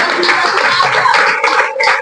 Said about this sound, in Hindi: देखिए यहाँ डॉक्टर सलीम सर के लिए जोरदार ताली।